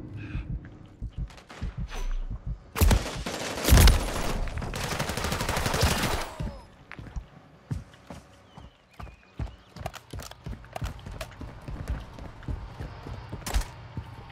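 Gunfire in a Call of Duty match, with a dense burst of shots around the third to sixth seconds and scattered sharp reports afterward, mixed with hoof-like clopping game sounds; no talk.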